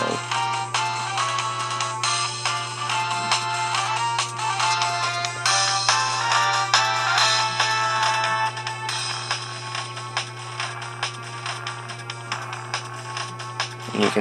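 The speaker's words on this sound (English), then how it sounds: "you can hear that really tacky music in the background." Cheap, tacky electronic background music from a retro mobile phone video game plays steadily and fairly loud throughout, a bright beeping tune over a constant low drone, with no voices.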